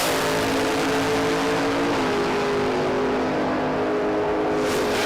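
A powerful XY drag car engine at Willowbank Raceway roars continuously at high revs, a loud, droning blare that holds steady before starting to fade away.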